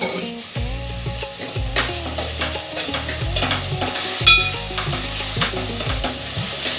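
Close, steady sizzling of a pan on the stove under repeated scraping strokes of a spoon stirring the contents, with a brief clatter partway through and no talk.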